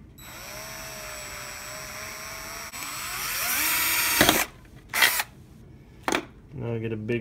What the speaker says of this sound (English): Now I get a bigger drill to make the hole for the LED to poke through.